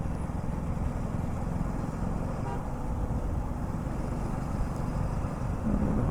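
Road traffic rumbles in a steady, dense wash of engine noise, with faint scattered car horn toots barely standing out from the continuous drone.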